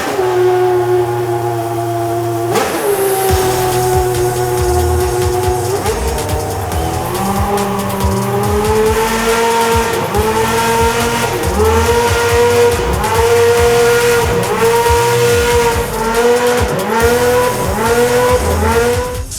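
Formula 1 race car with a V10 engine screaming loud and close, its pitch climbing and dropping sharply again and again as the gearbox shifts up through the gears and then back down toward neutral.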